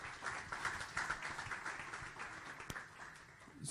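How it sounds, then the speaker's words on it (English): Scattered applause from a conference audience at a tech event in a meeting room, fairly faint and continuous for a few seconds with one sharp clap standing out near the end. "So we can make some applause for Telefonica."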